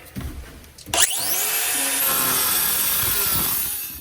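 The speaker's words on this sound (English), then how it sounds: "I'm just going to use a cutter" A cutter bites through an old copper heating pipe from an oil furnace system, a sudden harsh onset followed by a sustained loud grinding, rasping cut lasting a few seconds, close up with no talk.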